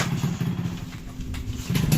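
Black Yamaha RX-King motorcycle engine idling close by, a steady low two-stroke putter that swells louder near the end as it is revved, with no talk over it.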